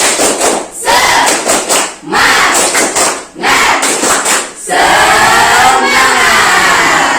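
A school class performs a rhythmic spirit clap chant, with bursts of synchronized clapping and shouted group voices in a repeating pattern, loud and close, ending in a long sustained cheer.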